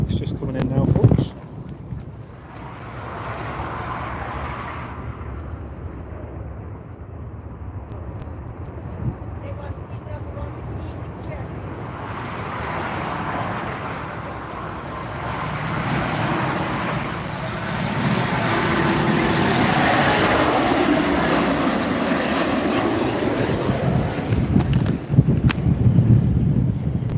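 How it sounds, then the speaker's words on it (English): A Ryanair Boeing 737 Max 8 comes in to land in a crosswind at Newcastle Airport, its engine roar building slowly from afar under heavy wind buffeting, with people talking throughout. "looks like we have a Ryanair Max just coming in now, folks."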